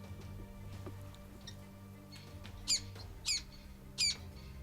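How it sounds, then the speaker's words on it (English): Birds at a water hole in the South African bush during an impala bowhunt give three sharp, harsh squawks about half a second apart, close and clear over a quiet background hum. "all these birds were squawking and moving around"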